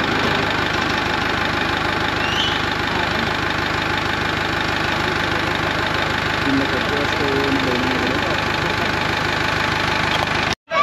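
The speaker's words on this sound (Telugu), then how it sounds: "వినాయకుడిని పైకి క్రేన్ ద్వారా తీసుకుంటున్నారు" A crane's engine drones steadily and loudly throughout while it lifts a Ganesha idol at an outdoor festival, with indistinct voices blended into the constant mechanical rumble until it cuts off abruptly at the end.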